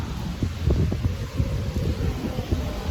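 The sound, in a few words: strong wind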